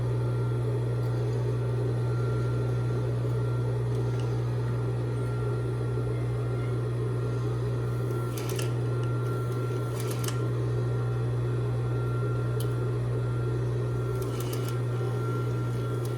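A sewing machine stitches fabric along a drawn line, giving a steady, continuous mechanical hum with a constant motor drone throughout and a few brief higher clicks partway through. No one speaks.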